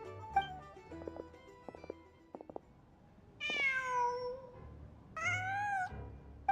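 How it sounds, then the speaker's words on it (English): A cat in the Genshin Impact video game gives two clear meows, the first drawn out and falling and the second a little later, after some light clicks and game sounds over quiet ambience. "Just a cat."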